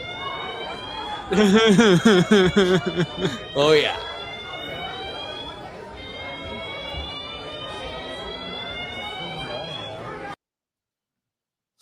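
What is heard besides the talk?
fire alarm ringing in a movie theater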